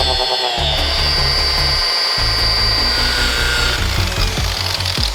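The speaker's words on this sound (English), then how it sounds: "This is a straight up grinder." A straight grinder works on a wheel for a truck, giving a continuous high whining buzz with rough grinding texture and shifting pitch as the tool bears on the metal.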